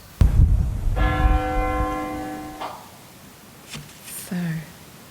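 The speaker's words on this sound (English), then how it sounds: "Ringing their bells every 30 minutes." Church bells in Amsterdam ring out in a single loud, resonant peal that hangs and decays for a couple of seconds, followed by a few fainter, softer tones near the end.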